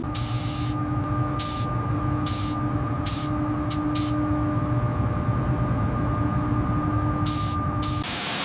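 Paint is sprayed onto a Range Rover body in bursts, a continuous close hiss broken by several short louder spurts, over a steady background hum of a compressor or booth fan; no voices.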